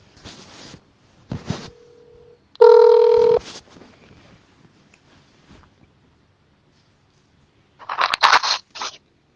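A telephone rings before a call, a steady electronic tone with a louder burst of ringing in the middle and another short burst near the end, separated by quieter clicks and handling noise.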